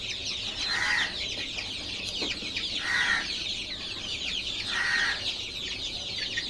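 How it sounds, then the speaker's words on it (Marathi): A flock of desi country chicks peeps constantly in high, busy chatter, while a hen's lower clucks break through in short bursts about every two seconds. "सर्व गावठी कोंबडीची पिल्लं आहेत"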